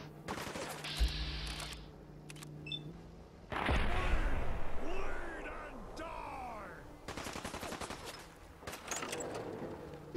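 Video game gunfire, with a sharp blast and mechanical clicks, then a longer dense stretch of shots and rumbling effects, and later clusters of rapid cracks, all mixed with in-game sound effects.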